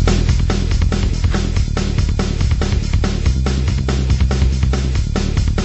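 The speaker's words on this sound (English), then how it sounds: "So what happens is we've got 4 chains of this metal drum pattern," A Korg Pandora PX4D multi-effects unit plays a chained metal drum pattern from its rhythm section: loud, dense, fast kick and snare hits drive a steady pounding groove throughout, with no voices.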